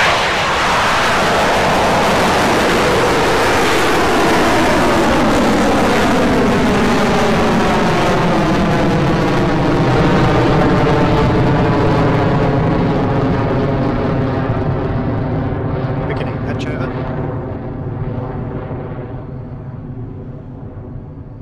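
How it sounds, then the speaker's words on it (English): A Rocket Lab Electron rocket lifting off from its New Zealand pad: a loud, continuous crackling roar that holds steady, then slowly recedes and thins as the vehicle climbs away. "We are T plus 35 seconds into flight for the 11th Electron mission."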